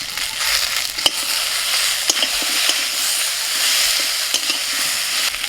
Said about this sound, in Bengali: টমেটোটা ভেজে নিয়ে বেটে রাখা বাটনাটা দিয়ে দিচ্ছি।